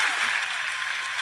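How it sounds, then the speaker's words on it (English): Brief burst of audience applause thanking an entertainer after an interview, a dense, bright rush of clapping that stays steady throughout. "let's give Mr. Sonny Turner a big round of applause as we thank him"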